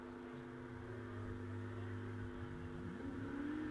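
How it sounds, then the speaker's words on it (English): A Cosworth V6-powered Firestorm hillclimb race car charges up to the finish line at Loton Park in the wet, its engine a steady droning whine heard from a distance, rising in pitch toward the end. "Lindsay Summers in the Cosworth V6 powered Firestorm, charging up to the finish line"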